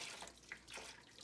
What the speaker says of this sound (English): We're going to pour off some of the water.